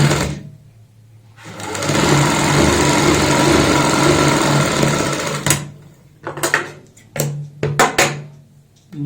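A sewing machine stitches down the folded edge of a blouse sleeve, running in one long steady whir for several seconds, then in short quick bursts with pauses between.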